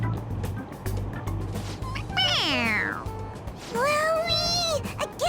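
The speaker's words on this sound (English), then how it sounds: "It meows when you press on its head." Cat toy in Persona 5 Royal meowing when pressed on its head, two loud, clear falling meows in succession over game background sounds.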